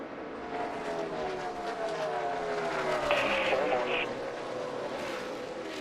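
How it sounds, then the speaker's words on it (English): NASCAR Cup race cars roar past at the 2017 O'Reilly Auto Parts 500 at Texas, a steady engine drone with rising and falling pitch as cars sweep by, under continuous race commentary. "Here comes Kurt Busch and Kyle Busch"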